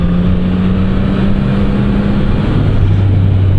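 A 2024 Yamaha MT-09 SP motorcycle with an Akrapovic exhaust runs at a loud, steady, throaty drone up close, its pitch shifting slightly as the revs change near the end.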